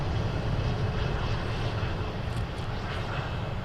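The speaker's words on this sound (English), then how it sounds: "There's a Ryanair 73." A Ryanair Boeing 737 at Manchester Airport gives off a steady, distant jet roar with broad rumbling wash, moderately faint and constant across the moment, with no talking.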